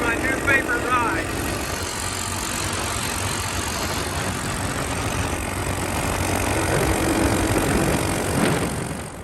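A Honda SL70 motorcycle engine runs steadily while being ridden, a continuous buzzing drone mixed with heavy wind rush and rattle throughout, with a brief voice near the start.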